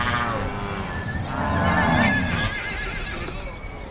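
Horses on a large Venezuelan cattle ranch on the Los Llanos plains give a loud, close whinny that rises and falls over a few seconds, with faint hoof clatter underneath.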